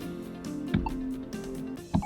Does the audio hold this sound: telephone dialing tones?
yes